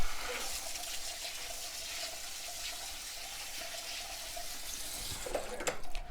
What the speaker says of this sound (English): 2 cups of oats. I'm going to rinse those.